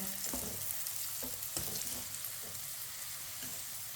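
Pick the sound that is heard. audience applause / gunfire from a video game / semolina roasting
semolina roasting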